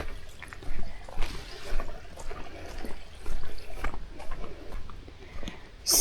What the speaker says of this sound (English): Oops, there's another babbling brook.